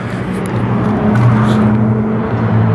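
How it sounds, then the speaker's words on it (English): A 1995 Chevrolet Corvette C4 with a MagnaFlow dual exhaust idles close by, a steady, loud, low rumble that rises a little in the middle and holds without a break. "Dual exhaust."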